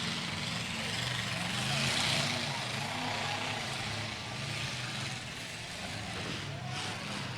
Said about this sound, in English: Here comes the diesel.